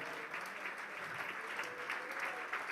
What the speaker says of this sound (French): Go ahead and give him a hand.